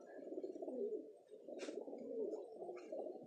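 Pigeons coo softly in a breeding loft, a low rolling warble repeating in two close phrases with a brief higher flutter between them.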